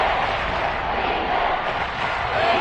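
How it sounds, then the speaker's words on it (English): A football stadium crowd roars in a dense, steady wall of noise near a goal-line play, loud and unbroken throughout. "this crowd's going to get even louder"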